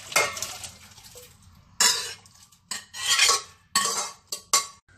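Cooked dal and vegetables are scooped into a pot in several bursts of metallic scraping and clinking from a ladle against the vessels, close and fairly loud.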